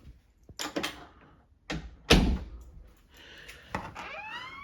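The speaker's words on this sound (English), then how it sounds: "We're gonna close this door." A door in a building with a security system is pushed shut. Several knocks and shuffles lead up to one solid closing thud, followed by lighter rattling.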